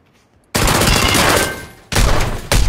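Automatic gunfire in the video game PlayerUnknown's Battlegrounds erupts in loud, dense bursts, one long volley followed by two shorter ones, close and harsh with no talk.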